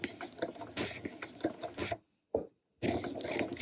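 Domestic sewing machine stitching leftover fabric scraps at a slow pace, a close, steady mechanical whirring with one short pause.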